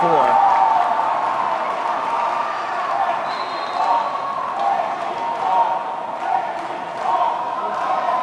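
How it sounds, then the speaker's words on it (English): A crowd roars through a men's dodgeball world championship playoff match between Canada and Mexico in Cancun, where the Mexican team's loud, continuous cheering fills the hall and swells in waves over a commentator talking throughout. "You can hear the Mexican team cheering loud and clear."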